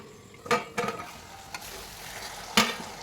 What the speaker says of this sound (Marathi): आता याच्यामध्ये आपण वांगे बटाटे घालून घेऊया.